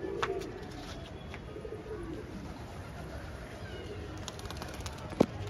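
Pigeons fly around a loft in Rohtak, giving faint, sparse calls over steady outdoor background noise, with a sharp click near the end.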